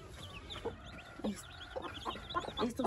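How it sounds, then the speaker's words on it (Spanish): Newly hatched chicks peep in soft, scattered high chirps, quiet and close, with occasional clucking-like calls and no talk. "Estos son los pollitos."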